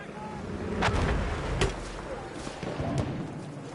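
Mortars firing in a shooter video game, a run of heavy thumping launches and booms at close range over a constant rumbling battlefield bed, with a few sharper cracks spaced through the clip.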